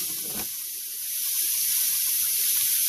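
Sausage sizzles in a warm pan with a bright, steady hiss that swells slightly after the first second and holds level, close up and with no voices.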